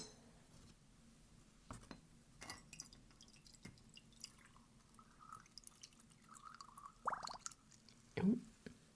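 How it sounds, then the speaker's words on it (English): Brewed tea is poured into a cup, with a few soft drips and light clinks of the cup scattered through a quiet stretch, ending in a brief, louder gurgle. "I am going to pour some tea"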